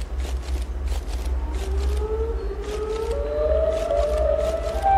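A rising, wailing siren call from the Siren Head creature in a horror video game, climbing slowly in pitch over a low rumbling drone, with faint rhythmic scraping bursts above, steady and fairly loud throughout.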